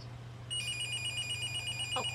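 A telephone rings with a steady electronic trill, repeating in quick pulses over a low background hum, moderately close.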